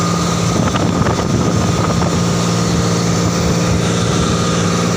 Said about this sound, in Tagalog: ang lakas sa hangin